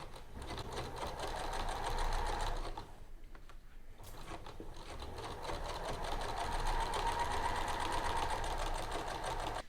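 A sewing machine edge-stitches along a pocket bottom on a smock-style frock, running in a steady close whir that halts briefly partway through and then resumes at full pace.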